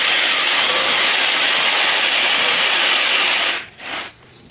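An electric sander runs with a loud, steady whine close by for several seconds, then cuts off and winds down, with no talk.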